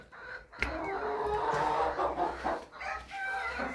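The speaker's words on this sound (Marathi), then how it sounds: "इथं अंड्याला कोंबड्या बसले त्या, तिथे एक बसल्या, इथं अंड्यासाठी आल्या" Hens settled on eggs in a farmyard coop give off steady close clucking and rising fowl calls, continuous and fairly loud with brief pauses, with no talking.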